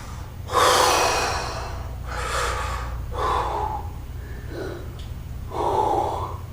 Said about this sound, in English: hyperventilating